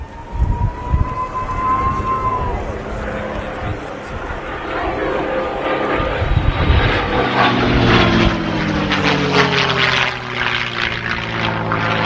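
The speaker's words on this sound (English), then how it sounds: "it was the Merlin-powered versions, like the P51D that we see represented here" Merlin-powered P-51D Mustang warbird 'Jersey Jerk' at an air show, its propeller engine swelling from a distant drone into a loud close roar with shifting pitch as it passes, voices murmuring underneath.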